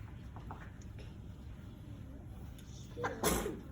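A single short sneeze bursts out near the end, after a few seconds of quiet room background.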